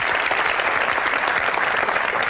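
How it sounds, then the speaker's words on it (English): A young voters' forum audience applauds steadily and loudly throughout, a dense wash of many hands with no break. "Yeah, you could clap for yourself."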